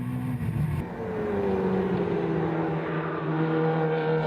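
Kia race cars in a Super Seven event on the Estoril circuit, engines droning and rising in pitch as cars pass and overtake, a sustained mid-distance roar that swells and shifts over several seconds.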